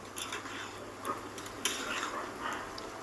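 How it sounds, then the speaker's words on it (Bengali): Spinach and fried eggplant are stirred together in a pan, giving soft scraping and clinking of a utensil against the pan over a faint continuous sizzle, with sharper taps here and there. "বেগুনটা দিয়ে শাকের মধ্যে খুব ভালো করে নেড়ে চেড়ে দেবো"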